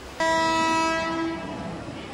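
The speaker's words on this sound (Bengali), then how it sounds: "আমাদের ট্রেন ছেড়ে দিল হাওড়া জংশন রেলওয়ে স্টেশন" A train horn sounds one sustained, bright blast as the train departs Howrah Junction station, fading out, with low rumbling of the train underneath.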